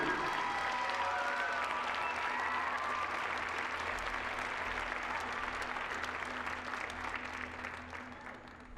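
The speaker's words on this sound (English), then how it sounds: "how about a big round of applause" Sustained applause from a crowd at a Rutgers versus UNC college gymnastics meet honoring a senior gymnast, a steady, full clapping that fades gradually toward the end.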